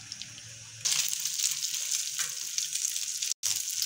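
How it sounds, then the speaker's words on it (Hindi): Beaten eggs hit hot oil on a griddle and set off a sudden loud sizzle after a quiet start, with a bubbling hiss that continues and a brief dropout near the end. "अब हम लोगों ने अंडे इसके ऊपर इसके अंदर डाल देने हैं और इसको फैला लेंगे अच्छी तरह से।"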